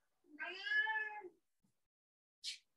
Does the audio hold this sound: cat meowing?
yes